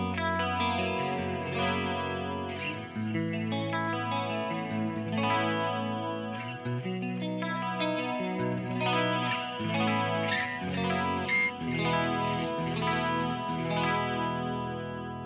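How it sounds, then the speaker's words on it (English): Electric guitar played through the clean channel of a Mezzabarba Trinity amplifier with chorus-like effects, strummed chords and arpeggiated phrases flowing continuously and clearly with no talking. "let's go ahead and listen to the clean channel now. I got the effects on."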